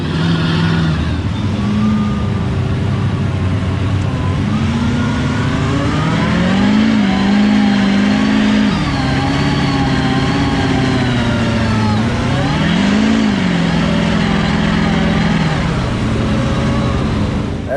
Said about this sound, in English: Listen to the sound change in the motor.